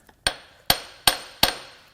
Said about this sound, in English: hit it with a hammer.